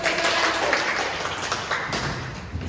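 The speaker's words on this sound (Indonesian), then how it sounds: "tepuk tangan kepada kelompok 1" Classroom applause for a student group, a dense spread of clapping and tapping that runs steadily for a few seconds at moderate level with no speech over it.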